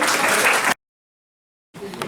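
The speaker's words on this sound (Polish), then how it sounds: "Brawa!" Audience applause after a poem reading at a poetry contest laureates' event, a short burst of clapping that cuts off, then resumes briefly after a gap.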